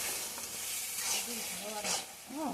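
Taro leaves with turmeric cooking in a pan, giving a steady soft sizzle and hiss with occasional stirring scrapes, fairly close, while a voice speaks faintly in the background.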